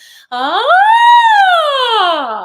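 A single voice imitates a siren, sliding up in a smooth wail and then slowly easing back down, loud and sustained, with no other sounds.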